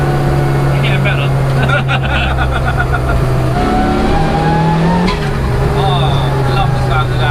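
Turbocharged 340bhp Peugeot 106 accelerating hard, engine note rising and falling through gear changes, heard from inside the car as a loud, continuous roar with talk and exclamations over it.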